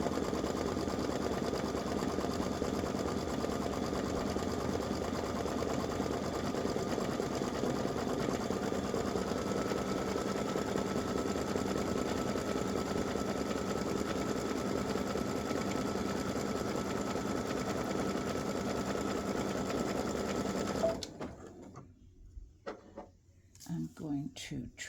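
An embroidery machine stitching a dreidel applique onto fabric runs in a steady, fast, even hum and needle rattle for about twenty seconds, then stops abruptly, leaving a few soft handling noises.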